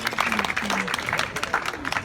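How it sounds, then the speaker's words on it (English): Audience clapping for a young volunteer at a show, a steady patter of claps running the whole time with voices and chatter mixed in over it. "Let's give a big round of applause for her helpful volunteer."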